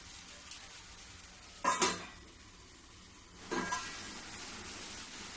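A spoon scraping and clinking against a pot of arbi leaf curry simmering on low gas, with two short metallic bursts from stirring and covering it over a faint steady sizzle.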